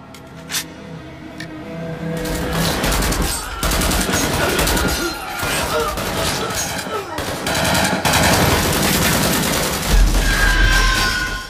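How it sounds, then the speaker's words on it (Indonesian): Gangsters fire on passengers in a 2016 Indonesian action film scene, with dense, loud automatic gunfire rattling in sustained bursts and louder booms breaking through, all set in a thick, chaotic soundtrack. "anak asuh Samidi pun dengan kejamnya menembaki semua penumpang"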